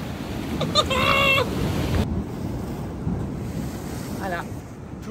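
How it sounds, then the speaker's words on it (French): Ocean waves breaking on a beach in Mexico with strong wind buffeting the microphone: a constant rushing surf roar, with brief voices speaking faintly in the background. "Je voulais juste filmer les vagues."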